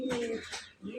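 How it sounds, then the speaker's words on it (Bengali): One of six pairs of caged pigeons gives a low throaty coo, close and moderately loud, with a short pause before the call resumes. "এখানে 6 পেয়ার কবুতর আছে।"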